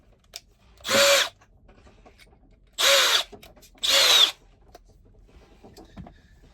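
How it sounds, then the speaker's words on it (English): Power drill boring a hole, three loud bursts of whirring, the first near one second and two more close together a few seconds later, separated by quiet gaps with faint handling clicks. "I'm going to put the drill bit in the drill."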